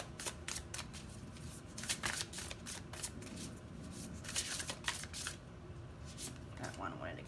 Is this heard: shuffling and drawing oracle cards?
yes